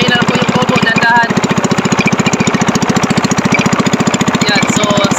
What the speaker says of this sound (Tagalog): Manda na po kami makina guys.